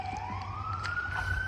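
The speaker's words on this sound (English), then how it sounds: "Maybe you can hear the sirens." Sirens from a nearby fire department wail with a steady rising tone over continuous background noise by a pond in Noblesville, Indiana, sounding moderately distant.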